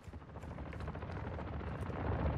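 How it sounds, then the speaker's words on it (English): Video game helicopter, a low continuous rotor rumble that builds slightly over a couple of seconds, fairly faint, with no talk. "The helicopter?"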